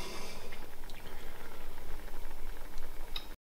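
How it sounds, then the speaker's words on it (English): Cream sauce bubbles in a pan as it comes to the boil, a steady close gurgling and popping that continues for a few seconds and then cuts off. "I'm allowing the creamy sauce to simmer for a few minutes"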